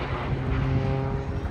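Aerobatic biplane fitted with two extra jet turbines performing at the Eastbourne International Airshow, a loud sustained engine roar without talk for a brief moment.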